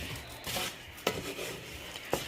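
Slow stirring of rice and butter in a slow cooker pot, a soft scraping rasp with a few sharper clicks of the utensil against the pot.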